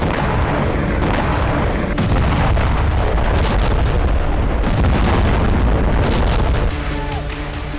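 Dense, continuous roar of heavy blasts and booming from missile strikes in Crimea, loud and chaotic throughout with layered rumbling and cracking, no clear gaps between impacts.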